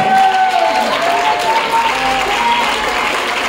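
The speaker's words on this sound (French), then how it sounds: "On peut me donner de bonnes acclamations à la gloire de Jésus qui est le Christ." Church congregation applauding and calling out acclamations during a worship service, a dense, steady wash of clapping with raised voices and whistles running throughout at close range.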